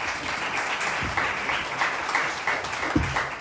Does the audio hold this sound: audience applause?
yes